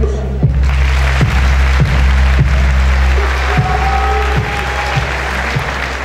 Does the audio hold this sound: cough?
no